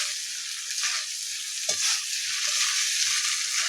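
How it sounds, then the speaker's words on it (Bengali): Fried pointed gourd and prawns sizzle steadily in hot oil in a pan, with occasional stirring scrapes and clinks through a continuous loud frying hiss. "আমি এবার ভেজে রাখা পটল আর চিংড়ি মাছটা দিয়ে দেবো। কিন্তু কষাবো"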